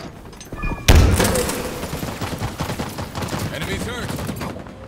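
A sharp burst opens a rapid stream of turret gunfire in Halo Infinite, loud at first and then chattering on at a steady, slightly fading level with faint voices underneath.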